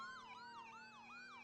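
Wailing electronic sirens in a Roblox public server, an emergency vehicle's tone sweeping up and down in steady repeating cycles, loud and continuous with no talk over it.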